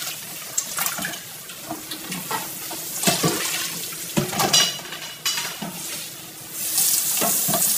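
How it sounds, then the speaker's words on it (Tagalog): Running water and wet handling sounds while raw pork skin is washed in a home kitchen, with irregular splashes and scrubbing bursts over a steady flow, growing hissier toward the end. "Continue lang po ang ating paghuhugas para maging mas malinis siya bago natin i-boil"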